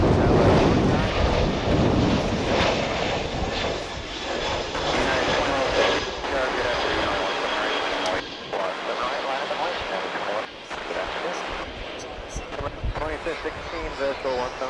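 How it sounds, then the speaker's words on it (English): An American Airlines Airbus A319 arriving from Canada comes in to land at DFW Airport, its jet engine roar loud and close at first, then easing off and wavering, with a voice talking over it. "That's American Flight 2517 in Airbus A319. Coming down from Canada."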